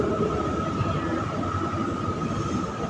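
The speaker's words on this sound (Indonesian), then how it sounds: "Kereta api." A train rumbles past in a steady, continuous roar with a sustained tonal whine running through it, loud and close throughout with no talk.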